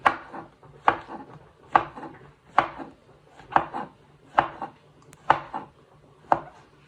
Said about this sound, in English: You finally slice them with your sharp knife, moving your fingers out of the way so you don't cut yourself, and do little moon shapes